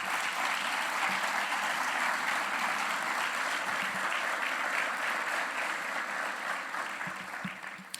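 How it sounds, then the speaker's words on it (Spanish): Audience applauding the authors of a museum collection catalogue at a presentation in Cártama, sustained even clapping from a large room that holds steady before tapering slightly at the end. "Yo quisiera darle un aplauso a todos ellos"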